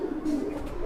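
Madrasi pigeons cooing softly in a steady low murmur close by, outdoors in a green area, with no talk over the calls.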